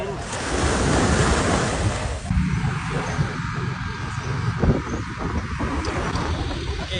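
Sea waves roll and break continuously at Karon beach in Phuket, a broad surf roar mixed with gusty wind buffeting the microphone, swelling slightly midway.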